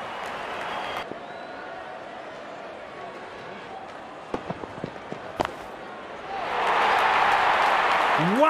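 Crowd applause in the cricket video game Real Cricket 22 marks a half century. A few scattered claps give way to a louder, steady wash of cheering near the end, after commentary.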